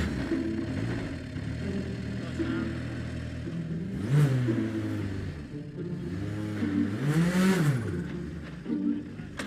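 A learner driver's car engine revs with rising and falling pitch sweeps as it pulls away on a race track, a steady mid-range rumble throughout, with two stronger rev surges; no one speaks.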